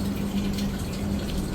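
Water poured into a small container of a hydroponic AB-nutrient setup for growing small indoor plants and vegetables, a steady continuous trickle and gush heard close up with no talk.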